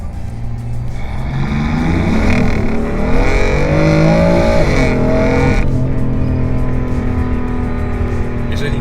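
A 580-horsepower BMW M3 with a loud aftermarket exhaust revs hard, the engine note climbing and falling in sweeping pitch changes before settling into a steady, close, loud drone.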